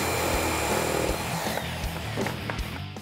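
A hacksaw cuts off part of a plastic intake piece on a 2015-2017 Mustang GT during a cold air intake install, giving a dense, continuous rough sawing noise up close.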